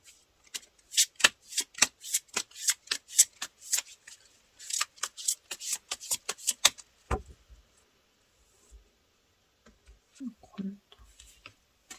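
Tarot cards being shuffled by hand, a long run of crisp rhythmic riffling snaps, close and fairly loud, then a few scattered card taps with a brief voice near the end.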